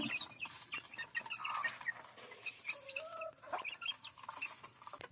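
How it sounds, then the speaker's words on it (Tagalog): A rooster and chickens cluck and murmur close by in a busy, uneven stream of short calls, with scratching and shuffling around them. "Ito ay tandang na malaking manok"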